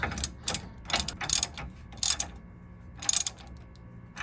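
A ratchet wrench tightening a tie rod end on a 1999 Ford Ranger during suspension work, several short bursts of clicking ratchet strokes separated by brief pauses, close and fairly crisp.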